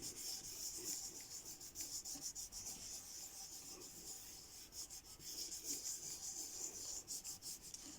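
Paper being smoothed by hand over a leaf to transfer a print: soft, close, continuous rubbing strokes in an uneven back-and-forth rhythm, faint and dry, with no talk.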